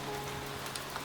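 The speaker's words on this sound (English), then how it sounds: "Rain." Steady rain falling outside at night in a jungle during a storm, a dense even hiss with soft drops pattering on surfaces throughout, fairly close and unbroken.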